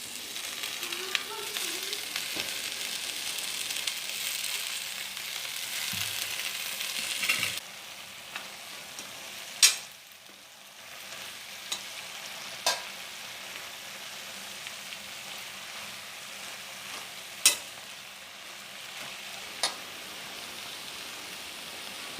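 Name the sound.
stirring moringa leaves cooking in boiling water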